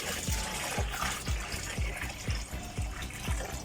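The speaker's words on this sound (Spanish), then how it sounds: "Todavía vamos a echarle otro poquito de agua." Water poured into a plastic bowl being filled for breeding betta fish, a steady splashing fill with soft rhythmic low gurgles repeating about every half second, close by with no voices.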